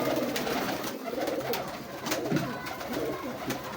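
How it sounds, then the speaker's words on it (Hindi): Cooing of a sturdy female pigeon being handled up close, soft repeated throaty coos running steadily through the clip amid faint background noise. "बड़ी तगड़ी कबूतरी है।"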